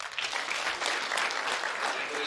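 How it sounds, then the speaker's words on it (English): Audience applause at a school annual general meeting, a steady patter of many hands clapping at moderate distance, fairly faint, with some voices mixed in. "So once more, we give her a round of applause."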